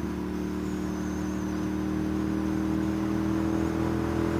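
A car with an aftermarket exhaust drones steadily through a tunnel, a sustained low engine note with a faint high whine, moderately loud and without speech.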